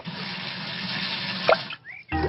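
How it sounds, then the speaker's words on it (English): Warm soapy water sloshing and splashing in a bucket for washing a car, a steady watery wash with a sharp plop midway, then a brief pause and renewed splashing. "Daddy Pig has some warm soapy water to wash the car"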